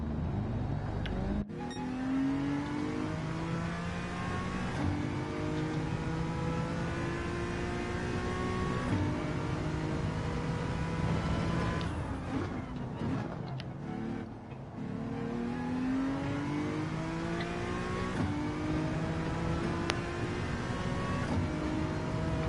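A Ford Mustang engine revs while driving, its pitch climbing repeatedly as it accelerates and shifts through gears, fairly faint and alone throughout.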